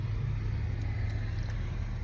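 A car drives by outside, a steady low rumble of engine and tyres heard from indoors, constant and fairly close for a couple of seconds.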